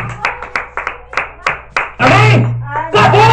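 Congregation at a church service clapping together in a loud, steady burst of applause, with a voice speaking over it; the clapping swells partway through and continues to the end.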